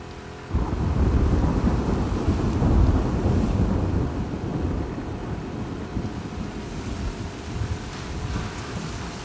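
Rain and thunder in The Last of Us Part II: a deep rumble of thunder swells in after a brief quiet start and rolls on under steady, dense rainfall, loud and close.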